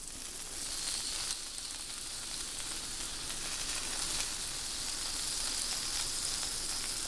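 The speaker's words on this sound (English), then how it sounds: "I hear a nice sizzle, so that's nice." Steady, bright sizzling of daikon bacon frying in a hot pan, continuous and close, with no voices over it.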